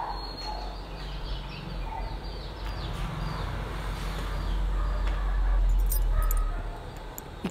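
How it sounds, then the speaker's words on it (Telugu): Hens cluck and call from a room used as a coop on a village farm, a steady close murmur of fowl with some rustling and a few sharp clinks. "సో ఇంకొక రూమ్ లో ఇక్కడ కోళ్ళు ఉన్నాయి."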